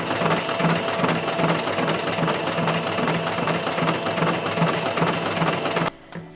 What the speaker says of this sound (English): I'm going to be using a ruffler foot to do all my gathers.